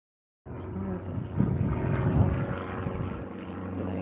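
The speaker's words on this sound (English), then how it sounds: "check the airplane out" An airplane passes overhead outdoors, a steady droning engine roar that swells in and holds for several seconds, moderately distant, with faint birdsong around it.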